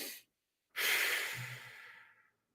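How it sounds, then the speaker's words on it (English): A couple of quick breaths taken as part of a breathing exercise: a short breath, a pause, then a longer, louder breathy exhale that fades out, heard close and alone. "Again, couple quick breaths"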